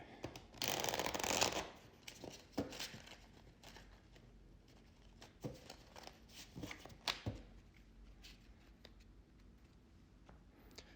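A tarot deck riffles in a brief burst, then scattered soft taps and clicks follow, quiet and close.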